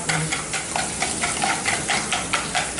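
A fork or whisk beats egg briskly in a bowl for pão de queijo dough, giving a quick, regular clatter of close strokes in an even rhythm, with no voices.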